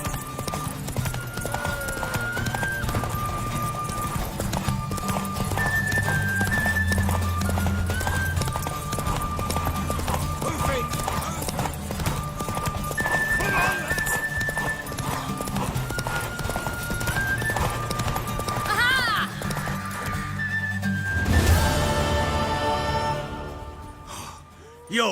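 In The Witcher 3, hooves clip-clop steadily over a busy mix of game sounds, with occasional neighs and whinnies rising from the mare before a louder burst near the end.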